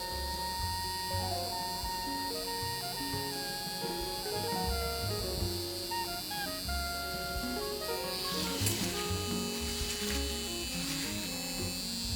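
A nano hair stroke PMU machine for permanent makeup runs with a smooth, steady motor buzz and faint tonal hum. It stays close and continuous with no talking.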